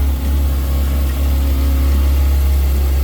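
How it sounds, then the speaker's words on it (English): A 2023 Kawasaki Ninja 636R motorcycle with its stock, uncorked exhaust idles close up, with a loud, steady, smooth low hum throughout and no talk. "Real smooth running bike."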